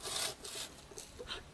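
A hand saw cuts through wood in quick, rhythmic back-and-forth strokes, each a short rasping burst at close range, with no talk over it.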